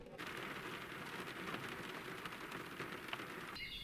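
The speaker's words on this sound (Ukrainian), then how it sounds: "Дощик посилився" A steady, soft hiss of spring rain falls continuously beside a river, with no voices and no breaks.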